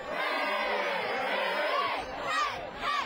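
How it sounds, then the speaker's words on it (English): Stands at a Richard Montgomery High School football game at night, a loud continuous crowd roar with cheering swelling near the end, with voices mixed in. "Nice crowd out here tonight at Richard Montgomery High School. It's getting pretty loud."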